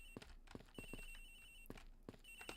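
A cell phone rings inside a locker in the Ace Attorney Investigations video game, giving a faint muffled electronic trill in repeating bursts mixed with sharp clicking taps, quiet and alone without speech.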